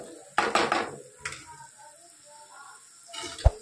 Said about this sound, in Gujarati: આપણે પહેલાં થોડુંક સૂકી ડુંગળીનો ભાગ કોતરી લઈએ.